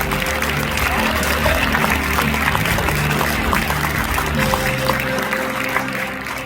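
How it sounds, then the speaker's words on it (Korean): A church congregation at a Korean revival evangelism gathering applauds, a dense sustained clapping that fills the room at high volume before tapering slightly at the end. "이제 우리 하나님께 영광의 박수를 올려드리겠습니다"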